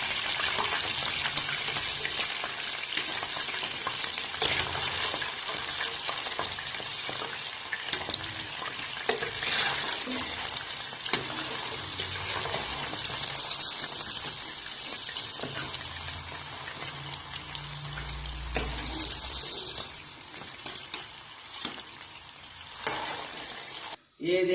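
Gola kabab frying in oil until golden: a loud, continuous close sizzle with bubbling and occasional stirring clatter throughout.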